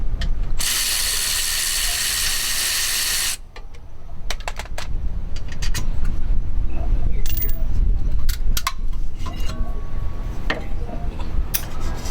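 Close, rapid ratchet clicking in several bursts as brake caliper bolts on a 2014 Subaru Forester come off with a deep socket, preceded by a loud steady air hiss; a voice speaks briefly.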